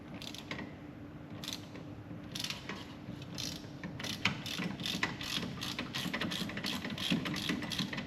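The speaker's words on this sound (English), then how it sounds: "Just loosening off the 2 bottom bolts." A ratchet wrench loosens the bottom coilover bolts on a Daihatsu Hijet. It gives a rapid series of close, sharp ratcheting clicks over a low background hum.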